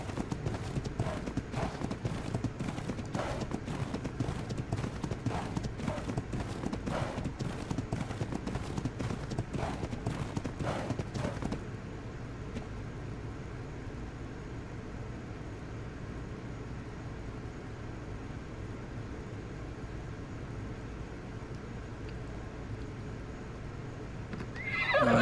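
A video-game horse bucks and neighs while being tamed, with rapid clip-clop hoofbeats and whinnies running loud for about twelve seconds, then a quieter steady ambient bed until a brief swell at the end.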